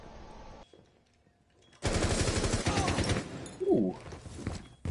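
Rapid automatic gunfire in a tactical shooter game erupts loud and close after a quieter lull, a sustained burst of shots with a brief whooshing effect near the end.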